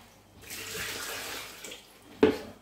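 Short burst of running water rinsing a cleaned chainsaw chain in a sink, a soft wash that swells and fades, ending with a brief splash.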